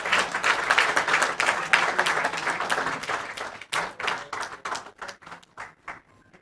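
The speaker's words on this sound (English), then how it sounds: "Can you give a big round of applause, ladies and gentlemen?" Audience applause at an Indian book launch event, dense and lively at first, then thinning out into scattered individual claps that fade toward the end.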